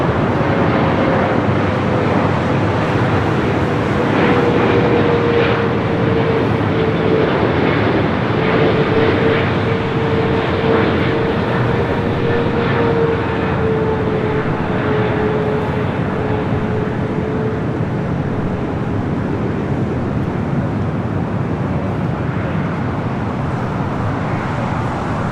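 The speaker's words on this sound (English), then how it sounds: "It's flight 102 coming in from Manila, this 13-year-old 777 at 300 ER." A 13-year-old Boeing 777-300ER on flight 102 from Manila lands at LAX, its engines a loud continuous roar with a slowly gliding whine, heard alone over wind.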